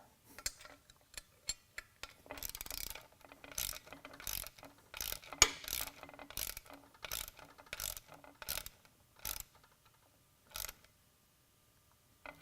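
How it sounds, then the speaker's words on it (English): A hand ratchet clicks as it tightens the mounting bolts on a rowing machine's oar handle, with quiet irregular bursts of pawl clicks and short pauses between strokes, close and alone. "As the final step, we tighten down the oar handle"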